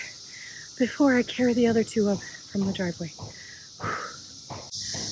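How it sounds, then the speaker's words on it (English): Steady high-pitched buzzing of cicadas drones throughout, continuous in the background while someone talks briefly over it. "As you can tell, the cicadas are still here."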